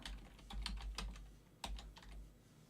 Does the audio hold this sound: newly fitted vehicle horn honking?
no